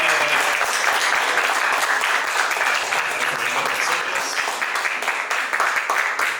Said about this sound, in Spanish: La recibimos con fuerte voto de aplausos.